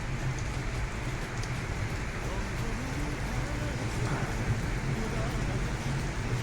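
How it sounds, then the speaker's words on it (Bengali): Heavy rain pours on Sylhet city in a dense, constant hiss and drumming, even and unbroken, with a voice faintly present under it. "প্রচুর বৃষ্টি প্রচুর সকালে মনে হয় সম্ভবত ভোর রাত থেকে শুরু হয়েছে"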